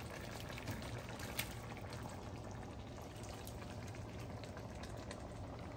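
Bacon mix poured into a pot of collard greens, giving a steady, dense liquid pour with a simmering sizzle that runs the whole time, with no one talking.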